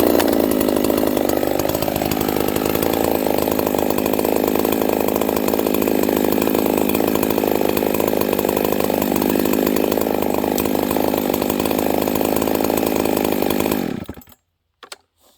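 A ported Husqvarna 266SE chainsaw runs loud and close with a continuous, raspy high-revving roar for about fourteen seconds before cutting off abruptly into near silence.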